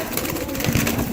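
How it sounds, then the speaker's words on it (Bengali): Pigeons in a crowded pigeon farm: a brief, close, low cooing with soft rustling movement. "এই যে এখানে দেখতে পাচ্ছেন মানে অনেকগুলো কবুতর রাখা আছে"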